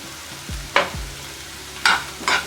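Omelette ingredients with coriander leaves being fried and stirred in a pan, a few sharp spatula scrapes and clinks over a low, steady sizzle, close and without talk.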